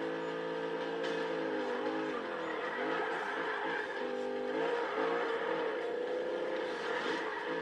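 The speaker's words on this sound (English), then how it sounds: "Oh my god, stop skidding!" Engine drone of a car in the Need For Speed 2015 racing game, a steady loud whine with shifting pitch as the car skids and slides, continuous throughout without talk.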